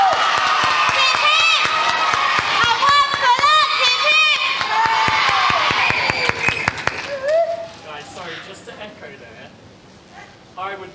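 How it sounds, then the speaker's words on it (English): A school end-of-year awards audience of children and adults claps and cheers for a teacher with loud shouts, then the noise fades and voices take over. "So can we have a massive round of applause for Mr."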